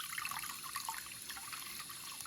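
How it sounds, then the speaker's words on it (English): Running water rinses crystals, a steady, faint, even hiss of flowing tap water with light splashing, continuous and without voices. "I just run them through water and cleanse them."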